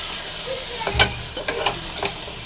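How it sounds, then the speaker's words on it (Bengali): Masala being stir-fried in a pan, with a soft background sizzle broken by several distinct scraping strokes of a spatula against the pan, close and moderately loud. "দিয়ে ভালো করে এবার কষাবো"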